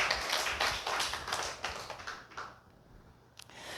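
A church congregation claps together in quick, even rhythm for a couple of seconds, the applause then fading into a quiet room with one last faint tap.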